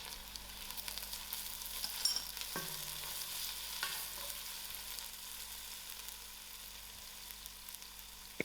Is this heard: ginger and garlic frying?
yes